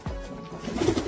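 Young pigeons being handled for ringing give soft, low cooing sounds, a close, breathy coo that swells toward the end of the short moment.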